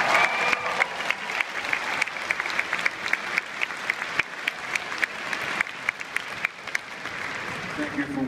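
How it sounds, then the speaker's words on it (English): Audience applause at a live comedy show in Binghamton, New York, with dense rapid clapping that rises and stays strong for several seconds while a voice speaks over it. "Let's hear it one more time for Jeremy and Jordan, or Texas."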